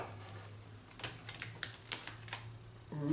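Soft rapid riffling bursts of cards being shuffled, several quick flurries close by at low volume, with no talking.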